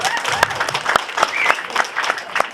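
Hesitant applause from a crowd at a Balinese comedy show, loud and close, with many hands clapping steadily and sharp individual claps cutting through the wash.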